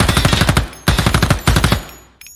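Automatic gunfire at a live firing range in the tactical shooter Ground Branch, three close, loud rapid bursts of shots separated by short pauses.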